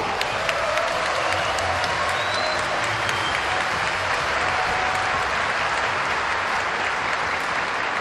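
Spectators applaud steadily at a men's doubles table tennis match at the 2013 Korea Open in the Songdo Global University Gymnasium, Incheon, a dense, even wash of many hands clapping throughout with faint crowd murmur.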